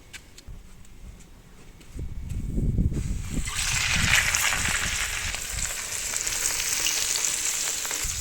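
Fish sizzles and spits steadily in a hot pan outdoors at a country house, the frying growing louder after a few seconds and continuing as a dense, crackling hiss.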